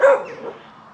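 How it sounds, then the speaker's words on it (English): Guard dog by a canal-side mooring giving one sharp, fairly close bark that fades into a short tail, heard alone. "A couple of guard dogs."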